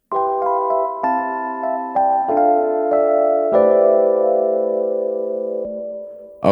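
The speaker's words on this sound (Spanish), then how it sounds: "Y ahora con un pre-delay más largo, sonaría así." Harmonic synth or instrument chords in a sound sample treated with a reverb effect set to a long pre-delay, several sustained tones changing in steps and ringing into a slowly fading tail, heard alone with no talk.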